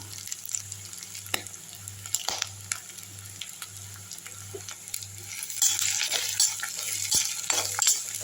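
Broken green chillies sautéing in a pan for beetroot chutney, a continuous oily hiss punctuated by light clicks of stirring, with a low hum underneath. The sizzle grows louder and busier toward the end.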